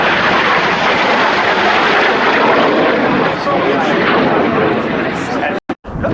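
Italian Air Force Frecce Tricolori jets roar overhead during a flying display at RIAT 2011, a loud, dense, continuous engine rumble and hiss sustained throughout, cutting out abruptly at the end.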